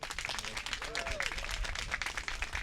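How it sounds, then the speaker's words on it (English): Audience applause for Governor Pritzker at an outdoor ribbon cutting for a park and creek project, a brief burst of clapping with voices and chatter mixed through it. "please give Governor Pritzker a grand round of applause"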